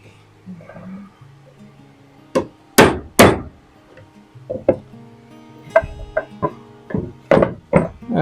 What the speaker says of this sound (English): But got this new corner chisel